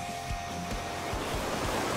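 Kicking Horse River rushes close by near a towering waterfall in Yoho, Canadian Rockies, a steady loud broadband roar of churning water that fills the whole moment with no voices.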